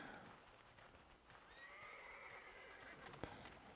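Horses in a riding video game neigh and whinny, a rising whinny in the middle and further calls, over faint ambient game sound with soft hoof clip-clops near the end.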